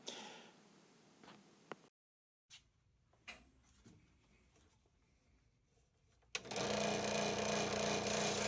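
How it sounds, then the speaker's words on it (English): A scroll saw cuts wood for an extension cord holder: scattered quiet knocks and handling sounds, then a loud steady buzzing rasp of the blade starts and runs to the end. "And I cut this out with the scroll saw as well."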